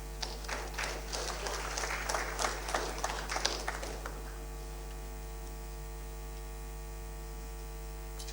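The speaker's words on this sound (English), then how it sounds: "A round of applause, please." Applause from a university session audience greets the incoming chair, a short burst of clapping lasting about four seconds before stopping, leaving a steady electrical mains hum alone.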